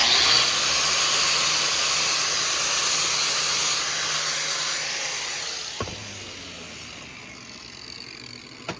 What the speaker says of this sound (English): just the other end needs to be prettied up with the angle grinder